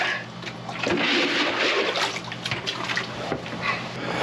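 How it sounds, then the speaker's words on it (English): Water being scooped by hand out of a hot tub while it is drained for winterizing, with a steady sloshing and splashing wash of liquid up close and a few sharper splashes. "I'm going to scoop out some additional water here."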